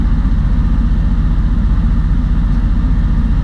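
A motorhome engine idles steadily with a deep, even low rumble and rhythmic throb, close by and continuous throughout.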